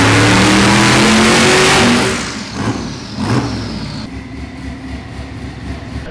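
A 427 LS V8 engine on a dyno pull, roaring loud and high for about two seconds before the throttle is released and the note drops away into a fading, rumbling wind-down with a few lighter revs.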